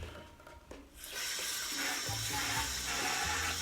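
A kitchen tap gushes as hands are rinsed off while preparing baby back ribs, the water starting after a quiet moment and then pouring steadily and close.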